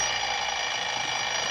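An alarm clock set for five in the morning rings in a radio drama, a continuous bright metallic ringing that holds steady and loud throughout with no voices.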